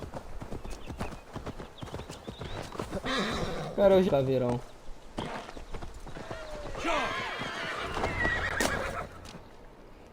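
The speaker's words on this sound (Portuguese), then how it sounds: "Uma montaria aqui. Vem, cavalo tribal." Tribal horse mount in Assassin's Creed Valhalla, hooves clip-clopping in a steady gallop with a loud neigh and whinny near the middle, under ongoing talk and game sounds.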